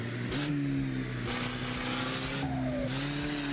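A race car in the Assetto Corsa sim racing game drives at speed, its engine note holding steady with brief dips at each gear change, joined by faint tire squeal.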